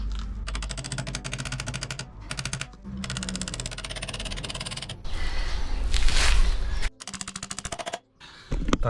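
Rapid metallic tapping as a hammer drives an engine mounting pin on an MT Dnipro motorcycle comes in fast bursts separated by short pauses, with a louder clattering stretch partway through, close by.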